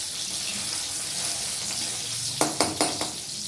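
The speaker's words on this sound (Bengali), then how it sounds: "রসুনটা ভাজা হওয়ার সাথে সাথে আমরা দেখুন লাল লাল যেন হয়।" Chopped garlic fries in a pan with a steady close sizzle, followed near the end by a few quick metallic clinks of a utensil against the pan.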